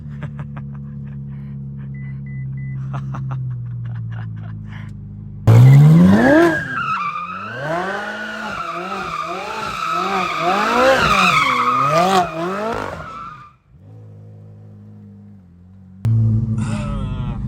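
A Novitec Ferrari 458 Speciale engine idles, then revs hard as tires squeal in repeated rising and falling donut skids, looping several times before easing off and revving again.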